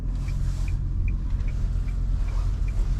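A 2023 Nissan Juke hybrid drives through a foggy town at night, heard from inside as a steady low road rumble with a faint repeating tick over it.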